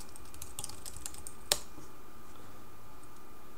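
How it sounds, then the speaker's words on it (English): Fingers tap out an address on a computer keyboard, giving a short run of quick, light clicks followed by one sharper key strike, then quiet room tone. "So let's just type in an address."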